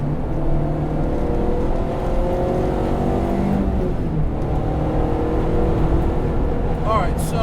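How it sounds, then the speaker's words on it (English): Honda Civic EG hatchback with a swapped K24 engine holding its 2-step launch control, a loud steady engine drone with rising and falling harmonics, a speaking voice mixed in. "That's like the proper 2-step launch control."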